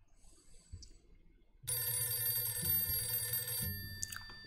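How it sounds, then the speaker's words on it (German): A telephone rings in a video game, starting abruptly as a loud, steady buzzing trill that holds for about two seconds before cutting off, with quiet background sound before and after and no talking. "Okay, geht direkt los mit einem Telefonanruf"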